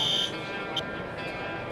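Synchronized fire alarm notification appliances sounding in a building notification zone, a steady buzzing tone with a brief chirp partway through, fairly faint and continuous.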